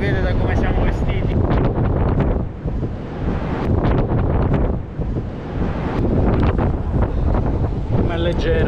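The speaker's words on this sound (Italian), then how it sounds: "c'è un vento mostruoso oggi, una cosa pazzesca" Strong gusting wind at the seaside in Civitavecchia, Italy, buffeting the microphone in loud, continuous roaring surges with brief lulls, with voices talking faintly beneath the rumble.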